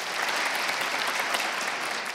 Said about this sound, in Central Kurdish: چەپڵەیەک بە خۆتان لێدەن